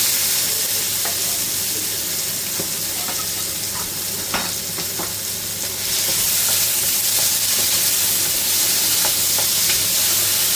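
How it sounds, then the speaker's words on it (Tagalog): Onions sizzle and fry in hot oil in a pan for a seafood stir fry with ginger. The hiss is loud and steady throughout, with occasional clicks and scrapes from stirring and no talk. "At syempre, isunod na natin ang ating sibuyas."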